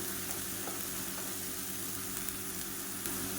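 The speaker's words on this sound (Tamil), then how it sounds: "இப்போ எண்ணெய் நல்லா சூடாயிடுச்சு நம்ம அரைச்சி வச்சுருக்க இந்த புதினா கொத்தமல்லி பேஸ்ட்டை சேர்த்துக்கலாம் இப்போ இது பச்சை வாசனை போகிற அளவுக்கு நல்லா வதக்கி விட்டுக்கலாம்" Mint and coriander paste sautéing in hot oil gives a steady, fairly soft sizzle and crackle that runs without a break, with faint stirring scrapes now and then and no voices.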